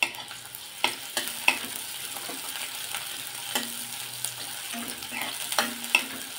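Chopped onion and a split green chilli sautéing in oil in a pan, a continuous soft sizzle punctuated by repeated spatula scrapes and taps, close and fairly quiet.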